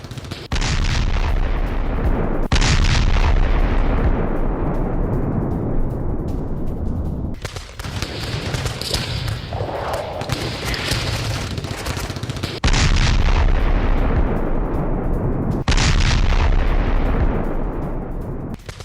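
Ukrainian artillery fires in war footage, three heavy booms each followed by a long rumbling decay, loud and close, with a sustained roar of explosions between them.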